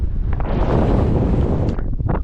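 Strong wind buffets the microphone on an exposed hiking route, making a loud, continuous roaring rumble with gusty surges and no voices.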